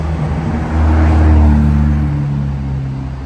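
An Audi RS6 C7 drives past on a street in Monaco, a loud, close, low engine rumble that swells midway and then eases off, with no talk.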